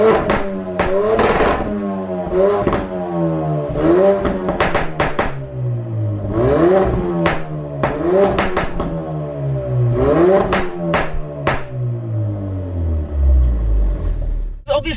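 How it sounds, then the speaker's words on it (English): Ford Focus RS with the MSD400 stage tune, revved repeatedly from outside the car: loud, close engine blips rising and falling in pitch, with sharp exhaust cracks between revs and a rumbling idle settling at the end. "I'll throw in some properly recorded revs versus what I did last time"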